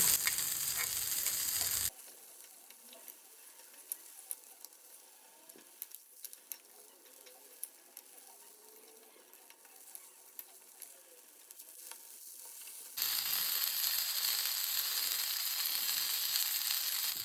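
Stuffed clams fry in a pan with oil, giving a steady crackling sizzle. It drops quieter in the middle stretch and comes back loudly at the end.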